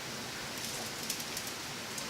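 Salt sprinkled by hand over cauliflower being prepared for baking, a steady soft patter of grains like light rain, faint and close, with no talk.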